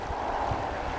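Creek water flowing steadily down its channel at Doyle in Lassen, California, a continuous close rushing wash with no pauses or talk.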